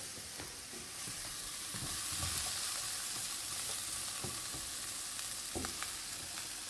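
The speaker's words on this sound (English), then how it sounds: "You want to saute these until they're a little translucent." Minced garlic sauteing in olive oil in a pan, a continuous crackling sizzle with occasional stirring scrapes, steady and close, with no voices.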